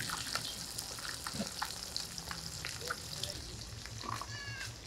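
Rohu fish frying in oil in a wok, a steady close sizzle and crackle running throughout, with a cat meowing and a voice briefly heard over it.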